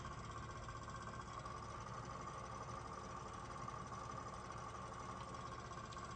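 A tractor engine in Farming Simulator 22, driven slowly with the hood open, gives a steady, even mechanical drone with no break from start to finish.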